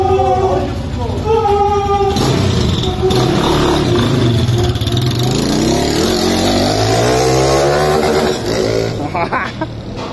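A Yamaha YBR motorcycle fitted with a 140cc kit revs up and down in pitch, rising sweeps close by, with people talking over the engine.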